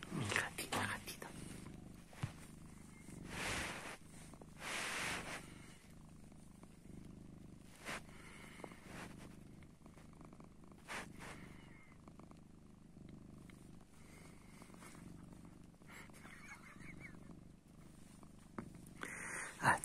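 A female cat purring close up, a soft rumbling purr running throughout, broken by intermittent quiet whispered speech.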